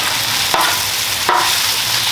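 Onions frying with beef in oil on a flat cooking surface for a chopped cheese sandwich, a loud steady hiss with two brief scrape strokes.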